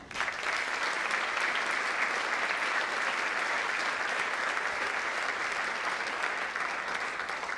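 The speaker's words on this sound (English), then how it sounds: "give them a round of applause" Loud, continuous applause from an audience at a high school honors night, a dense even wash of clapping that holds steady throughout for students being recognized, with no talking over it.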